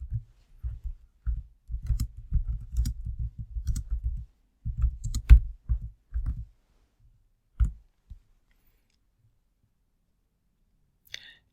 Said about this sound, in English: highlight the text and type your own text.